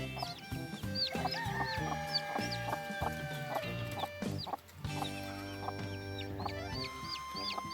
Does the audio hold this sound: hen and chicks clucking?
yes